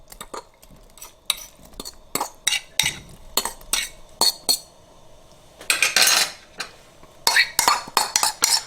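Large tuna chunks stirred into a casserole sauce for tuna noodle casserole, a series of close metal spoon scrapes and clinks against a pot, in irregular bursts with brief pauses.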